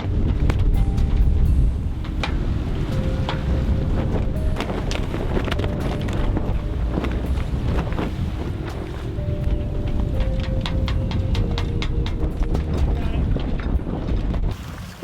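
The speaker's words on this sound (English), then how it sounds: "Wind's picking up." Wind picks up over a sailboat at sea, a steady loud rush and buffeting of air against the microphone, mixed with water noise, a few clicks and thin tonal hums throughout.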